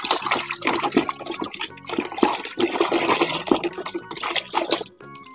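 Toy animals, including toy dinosaurs, are rinsed under running water, a steady splashing gush with irregular bursts that stays loud and close throughout, with no talking.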